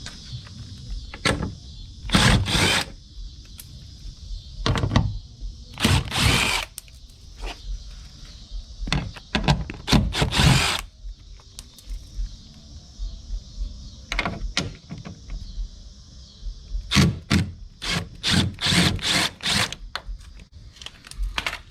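Screws being backed out of an Audi B8.5 door panel to remove the speaker: short bursts of close mechanical whirring and rattling, bunched into clusters with quiet pauses between them.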